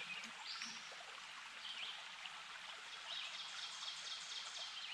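A creek flows steadily at a campsite, its even broadband rush of running water continuous throughout, with faint bird calls now and then and no voices.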